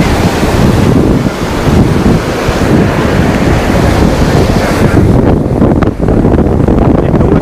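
Sea waves roll and crash continuously onto the shore at Puri beach, a loud, steady surf roar with wind buffeting the microphone throughout.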